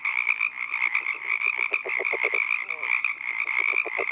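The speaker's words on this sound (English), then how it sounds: "In the background, you'll hear the Pacific tree frog chorus, but I think you'll clearly hear the red-legged frog." A red-legged frog gives a rapid series of low, pulsing croaks over a steady, dense chorus of Pacific tree frogs, with the nearer croaks standing out clearly against the continuous high trilling background.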